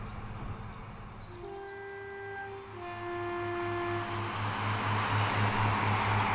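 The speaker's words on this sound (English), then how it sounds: "I think there was someone beeping the horn at me a second ago." Metro train in Train Sim World 5 on the Blackpool branches: several sustained two-tone horn blasts sound over a rising rhythmic engine and rail rumble that grows louder and busier toward the end.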